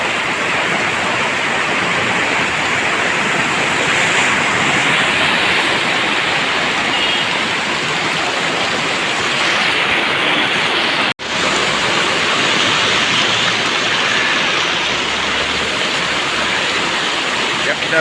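Rain-swollen floodwater in Junagadh rushes in a loud, constant roar, close and unbroken for the whole stretch apart from one brief dropout.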